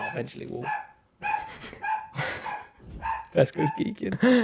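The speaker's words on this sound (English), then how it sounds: "Apologies about the dog" A dog barks in short repeated bursts close to the microphone in a room, mixed with and between people's conversation.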